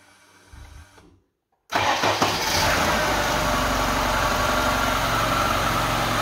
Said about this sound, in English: It has the ignition from the left side, so I can just do this and try to start it.